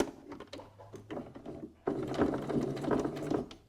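A sewing machine stitches fabric along a seam line for a cosmetic bag, first in short bursts, then a steadier, louder run of whirring, close up.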